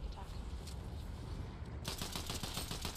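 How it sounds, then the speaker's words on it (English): Gunfire in the video game Fortnite during a Midas limited-time mode match, a rapid series of distant shots that grows denser and sharper near the end, heard under a faint game background. "I hear like more gunshots."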